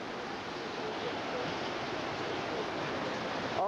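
Hurricane Wilma's storm wind and water rushing in, a loud, steady broadband roar filling the whole stretch close by, with no pause or letup.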